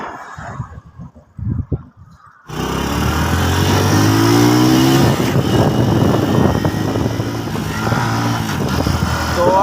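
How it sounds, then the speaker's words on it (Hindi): A new motorcycle rides along, its engine a loud steady drone with wind rush that cuts in abruptly and holds for most of the stretch, rising and settling slightly in pitch. "मैंने एक न्यू मोटरसाइकिल लिया है। अभी लेके जा रहे हैं"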